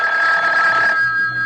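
A telephone bell rings loud and close as a sound effect in a 1974 radio mystery drama, a sustained ringing tone that fades after about a second.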